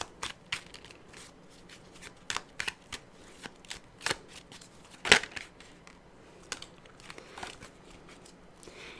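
Tarot cards are shuffled by hand at close range before drawing a clarifying card, soft rapid riffles and slaps in irregular bursts with quiet rustling between them, one sharper snap near the middle.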